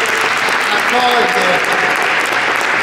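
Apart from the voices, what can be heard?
audience applause for the City of Naples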